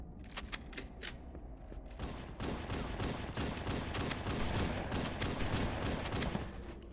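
Rapid assault rifle fire in the Halo CE map Hang Em High, a sustained close burst of automatic shots with a few separate cracks at first, then a dense, steady stream of gunfire.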